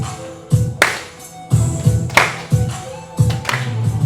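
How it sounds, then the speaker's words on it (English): Children in a music class clap their hands in a rhythmic pattern, sharp claps grouped in repeating pairs over a faint sustained background tone. "Now, can we clap?"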